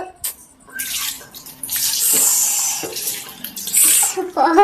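Cold tap water runs and splashes into a sink while dishes are washed, coming in uneven bursts that stop and start over a few seconds, close to the microphone, with a brief voice near the end.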